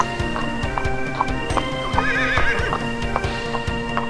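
Horse hooves clip-clop in a steady, close rhythm as a horse-drawn carriage rolls along, with a horse whinnying partway through over a continuous rumble of wheels.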